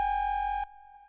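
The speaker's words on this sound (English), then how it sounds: "So you can hear that there's almost like a third sine wave oscillator downstairs." A Polivoks, the Soviet-era USSR synthesizer, holds a steady tone with a very low bass note underneath from cross-modulation; the deep layer cuts off partway, leaving a thinner, fainter sustained pitch on its own.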